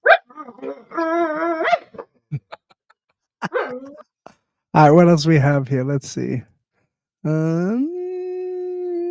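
Dogs in the background of an online developer call whine and howl in long wavering bursts, with a few short barks, while someone talks in between.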